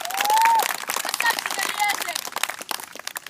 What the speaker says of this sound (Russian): Еще раз аплодисменты